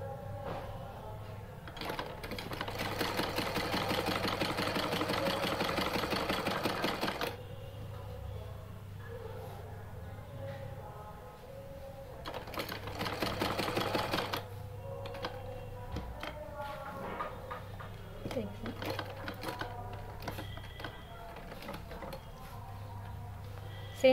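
A sewing machine stitches a halter neck collar, running in a steady rapid whir for about five seconds, pausing, then starting again for a shorter burst, with faint handling noises in between.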